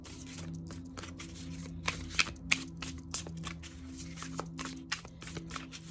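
Tarot or oracle cards riffled and shuffled for a reading, a steady run of papery flutters and soft slaps with a few sharper snaps, close and continuous, with a faint low hum beneath.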